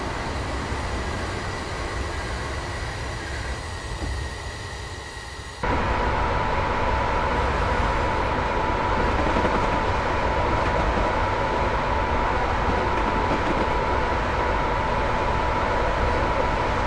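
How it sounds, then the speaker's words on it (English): A Class 87 electric locomotive train runs on the West Coast Main Line over Shap in Train Simulator 2015, a steady loud rumble of wheels and motors that grows fuller partway through and holds throughout with no talking. "Oh look, there's a train coming."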